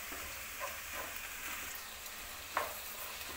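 Onions with salt frying in a pan, giving a steady soft sizzle and hiss with faint stirring scrapes and one brief sharper clink near the end.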